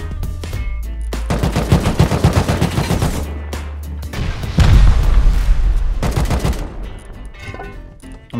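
Sustained automatic gunfire in Rust aimed at a base wall, with loud rapid shots continuing for several seconds and a heavier, denser stretch midway through.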